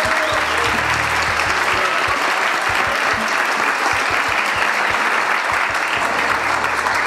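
Audience at a festival startup pitch session gives steady, full applause, a dense wash of clapping that continues without break, with a faint voice underneath.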